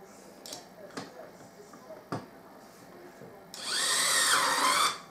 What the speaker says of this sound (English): I'm going to run these first three screws in